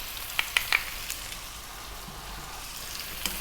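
Potatoes, onion and garlic frying in a pan, a steady close sizzle with a few sharp pops and crackles early on, no voices.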